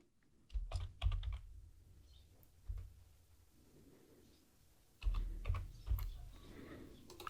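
Typing a folder name on a computer keyboard, two short bursts of quick, close key clicks separated by a quiet pause, with no voice.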